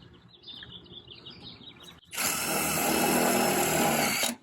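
A power driver sinks self-tapping #8 screws into an aluminum patio cover, first with outdoor ambience and birdsong, then a loud steady whine of the driver running for about two seconds, close and alone.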